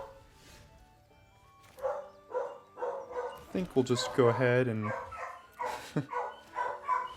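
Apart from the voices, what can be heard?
dog barking outside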